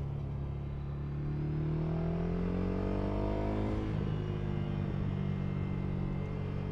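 A 2023 Ducati Scrambler motorcycle at full throttle near 150–160 km/h, its engine a loud continuous drone that climbs steadily in pitch, dips briefly as it shifts, then keeps pulling hard, with wind rush throughout.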